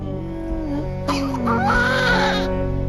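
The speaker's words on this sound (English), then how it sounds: "Researchers have studied the sounds of newborns" A newborn baby cries in a thin wavering wail that swells for about a second and a half and then stops, over a steady low hum.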